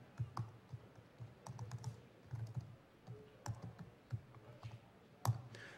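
Someone types on a computer keyboard during a security conference talk, irregular bursts of close clicking keystrokes with short pauses between them.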